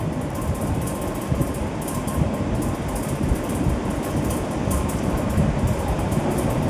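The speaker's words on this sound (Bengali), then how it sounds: "এবার আমি এই তেলটার মধ্যে অল্প অল্প করে আলুগুলোকে ছেড়ে দেব।" Thin shoestring potato strips for Bengali jhuri alu bhaja are dropped bit by bit into deep hot oil, producing a dense, steady bubbling crackle that stays close and even throughout.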